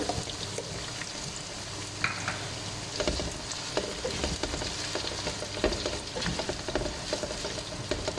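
Finely chopped onions frying in a pan for mutton aloo keema, a steady dense sizzle with scattered crackles and occasional clinks of stirring, close and continuous with no voices.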